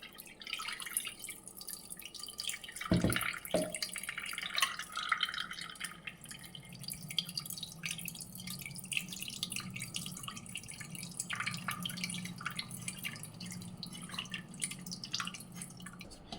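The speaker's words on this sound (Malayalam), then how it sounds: "അരിച്ചൊഴിക്കണം കേട്ടോ." Water is strained and poured for a chaya mansa (tree spinach) soup, giving a faint, continuous trickle with soft drips heard up close in a quiet kitchen.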